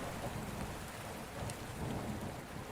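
Heavy rain pours steadily with a low thunder rumble underneath, a dense constant wash of storm noise with no voices.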